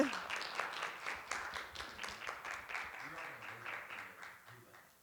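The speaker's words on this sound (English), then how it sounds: "Give yourselves a round of applause." A modest audience applauds at the end of an early-morning conference session, steady clapping that is fairly quiet and gradually fades, with a voice murmuring faintly beneath.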